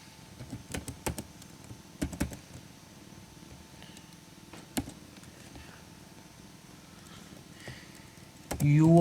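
Keys clatter as C++ code is typed on a computer keyboard, bursts of soft taps with pauses in between, fairly close and quiet, with a brief voice near the end.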